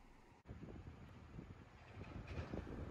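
A 7200 series train approaches a well-known Kansai railway photography spot as a faint, distant low rumble. Light wind noise sits over it, and there is no talking.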